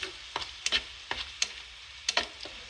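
Food being stir-fried in a pan at home, a soft sizzle under a series of sharp, irregular scraping and tapping strokes from a spatula.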